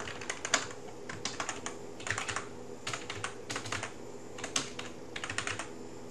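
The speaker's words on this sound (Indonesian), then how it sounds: "Ini kalau misalkan mau ketik manual juga nggak apa-apa, silakan ketik manual." Fingers type on a computer keyboard in quick bursts of crisp key clicks separated by short pauses, close and clear, with no talk.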